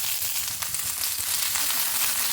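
Mustard seeds, curry leaves and sliced onion fry in hot oil, making a loud, continuous close-up sizzle with a constant crackling hiss.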